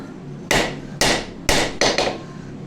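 Five sharp, ringing hammer blows land on a steel santoku chef knife blade during forging, close by and loud, in an uneven rhythm with the last two coming quickly.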